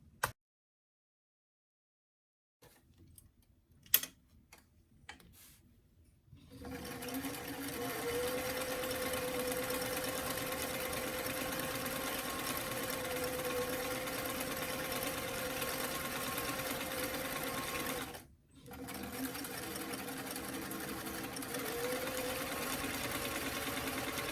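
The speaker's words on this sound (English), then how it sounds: "we're gonna go ahead and sew along the hem edge" A sewing machine stitches along the hem edge of a small doll dress, a steady continuous whir running unbroken for most of the stretch after a few faint taps, with one brief pause before it resumes.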